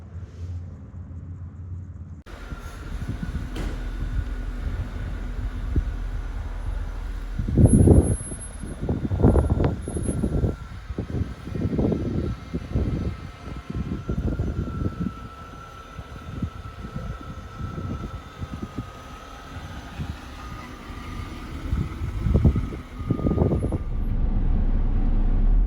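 A Jaguar XJ6 fitted with a new flexible coupling between prop shaft and pinion flange drives on the road, its engine and road rumble steady from inside the cabin, with repeated low bumps and thumps as it goes.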